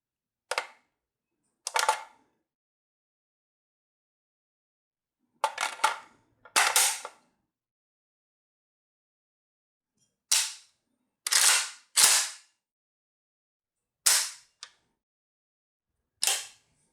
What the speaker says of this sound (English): first I'll make sure she's all clear and do a quick function check.